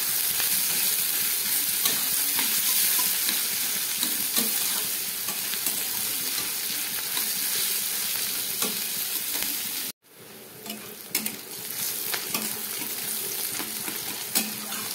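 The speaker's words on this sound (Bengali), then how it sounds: "পেঁয়াজ আর ক্যাপসিকামটা খুব ভালো করে আমি এবার ভেজে নেব।" Onion and capsicum frying in a pan for a spicy chicken dish, a loud continuous sizzle with constant stirring scrapes, briefly cutting out near the end before resuming.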